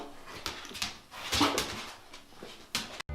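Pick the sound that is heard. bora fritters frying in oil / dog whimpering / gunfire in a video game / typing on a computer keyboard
dog whimpering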